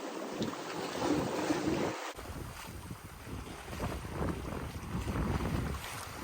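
A sailboat running under jib alone in strong wind rolls through waves, with steady wind rush buffeting the microphone and water washing along the hull, close and continuous.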